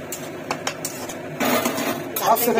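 Pots and utensils clatter during home cooking of fried potatoes, a few sharp metallic knocks and clinks followed by louder scraping and rattling, close by with no talk.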